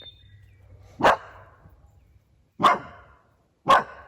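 A dog barks outdoors at a new house's garden during planting, giving three sharp, separate barks spaced about a second apart, somewhat distant and fairly quiet against a calm background.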